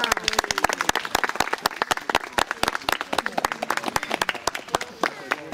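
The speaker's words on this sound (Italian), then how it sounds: "Un applauso!" Sharp, close hand claps come from a small group of people, many separate smacks in an uneven rhythm that keeps up throughout.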